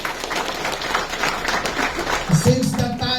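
A church congregation claps during a worship service, a dense wash of hand claps with voices mixed in; a louder burst of cheering and talk rises near the end.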